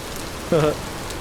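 Steady rain falls in the video game Vintage Story, a soft continuous hiss with a brief tonal blip in the middle.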